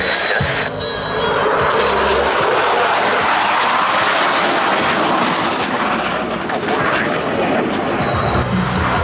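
Blue Angels jet aircraft roar through an airshow maneuver over show center, a loud, continuous close-range jet rumble that holds steady for the whole stretch.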